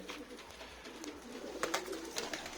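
Pigeons coo softly in a coop, with repeated low rolling calls over a steady background murmur.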